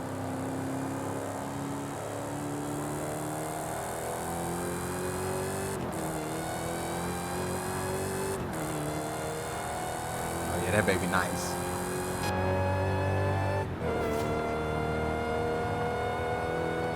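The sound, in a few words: Dodge Challenger SRT Hellcat Redeye engine in video game Forza Horizon 5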